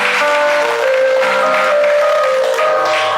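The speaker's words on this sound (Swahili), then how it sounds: "Tunataka tuwapigie makofi." A church congregation at a wedding at Kipona church bursts into steady, dense applause that holds at full strength for the whole stretch, with faint music-like tones ringing underneath.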